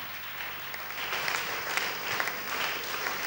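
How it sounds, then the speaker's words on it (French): A church congregation claps steadily through a service, a dense and sustained round of applause at moderate loudness with no voices standing out above it. "Tobeteli kolo maboko makasi"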